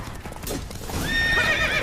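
Geralt's horse Roach in The Witcher 3: Wild Hunt, rapid galloping hoofbeats close up that end in a loud, drawn-out whinny, with no speech over it.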